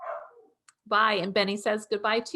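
A dog barks a few times close by, mixed in with a person speaking.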